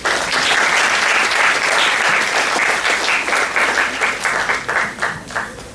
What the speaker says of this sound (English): May I now kindly invite the audience to put your hands together and clap